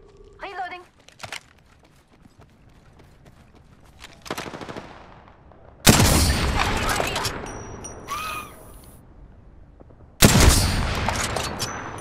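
Rapid bursts of automatic gunfire from an Apex Legends match, loud and close, with a few sharp shots early on, then two heavy sustained volleys and metallic game effects, while a player's voice is heard.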